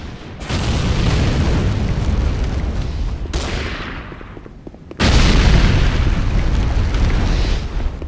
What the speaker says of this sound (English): C4 is set. Fire in the hole!